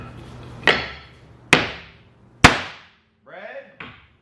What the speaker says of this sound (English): so back to the hammer test.